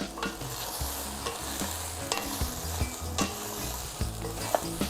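Chicken and cashew nuts stir-fried in a pan, with a steady loud sizzle and repeated scraping, clanking strokes of a utensil stirring the food, no voices.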